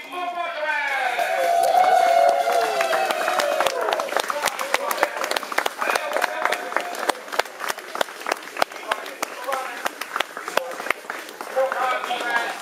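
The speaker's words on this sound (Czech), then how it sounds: "A nyní se vracíme zpátky do reality, prosím o potlesk!" Wedding guests break into applause at a reception, with dense clapping, some whoops and chatter throughout, rising after a brief spoken line at the start and continuing strongly to the end.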